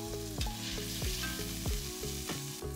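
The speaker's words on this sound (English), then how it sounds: "So we're gonna cook the shrimp in that rendered out pork fat" Shrimp fry in rendered pork fat with a steady, close crackling sizzle over a faint background hum, no voices present.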